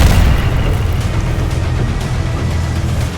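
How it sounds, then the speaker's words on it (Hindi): Merkava tank firing a shell, a loud heavy rumbling boom that fills the clip and slowly decays, dominated by deep low-end energy. "मरकाबा टैंक को जहां हल्की सी भी हरकत दिख रही है, वहां वो गोला फायर करता है"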